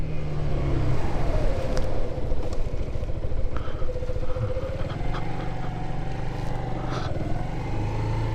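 A 2021 Junak 121 125cc Euro 5 motorcycle on a test ride drones steadily up close, its engine pitch holding, dipping slightly, then climbing again as it accelerates, with wind rumble underneath.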